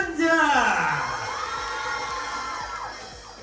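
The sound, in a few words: audience applause and cheering for the keyboardists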